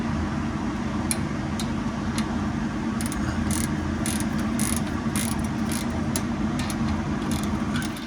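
A ratchet loosening a 10 mm bolt on a Toyota Camry during radiator and A/C fan replacement, with rapid, close clicking pawl strokes in irregular bursts over a steady low background hum.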